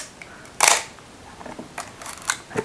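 A Chinon CM-4 film SLR camera fires its shutter release with a sharp mechanical clack, followed by a few softer clicks and handling noises up close.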